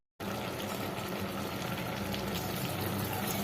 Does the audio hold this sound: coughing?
no